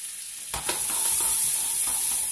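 Small fruits dropped into a pan over low heat start sizzling: a quiet hum, then a few clattering impacts and a steady close frying crackle, with no voices.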